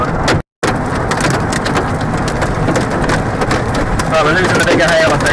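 Hail and heavy rain drum hard and steadily on a car during a tornado chase near Campo, a loud dense roar that cuts out for a moment and then resumes.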